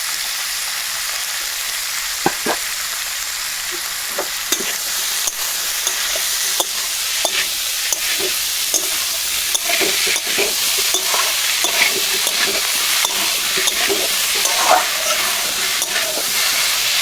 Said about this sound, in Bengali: পেঁপে আলুগুলো আমি একটু ভাজে নিলাম